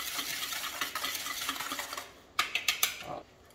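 A utensil stirs seasoned flour with salt and pepper in a bowl for coating squid, a soft continuous scraping that ends in a few distinct taps against the bowl, quiet and heard alone.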